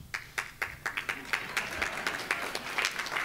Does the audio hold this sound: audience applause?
yes